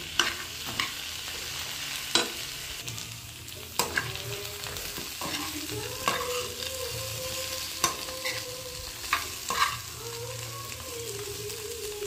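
Steady sizzling of fried fish pieces for chili fish being mixed in a pan, with repeated sharp scrapes and clinks of a utensil stirring at irregular intervals.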